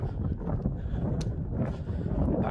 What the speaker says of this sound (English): In the wind now.